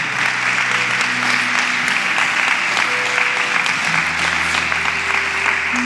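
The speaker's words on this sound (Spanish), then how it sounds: "¿Alguien puede darle un aplauso a Dios?" A church congregation applauds in a steady, loud wash of clapping that lasts throughout, with sustained keyboard chords underneath.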